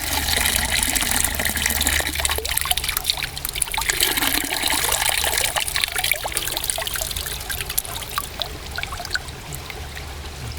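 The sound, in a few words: water poured to rinse aquatic insect sample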